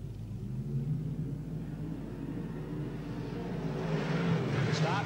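Modified race cars roaring together at the start of a race on an oval track, a steady dense engine rumble heard from a distance that swells slightly toward the end.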